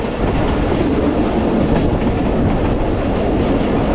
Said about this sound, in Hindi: हम अप्रोच बना रहे हैं जनाब वेस्ट बैंक रेलवे स्टेशन पर